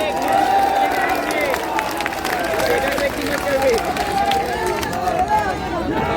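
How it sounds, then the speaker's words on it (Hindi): A large election rally crowd in Rajnandgaon claps steadily with raised hands, a dense continuous patter of applause mixed with crowd babble and cheering for several seconds. "दोनों हाथ उठा के ताली बजाएंगे"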